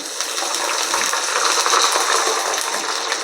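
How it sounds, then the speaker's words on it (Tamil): A tumbler of water is poured into a cooking pot of garlic for a Tamil medicinal kuzhambu, a continuous close splashing gush lasting about three seconds. "ஒரு டம்ளர் தண்ணி சேர்த்துக்கிறேன்"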